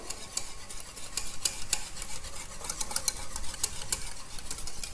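Bottle gourd raita being whisked in a bowl, a steady run of close, quick scraping and tapping strokes against the bowl with no talk.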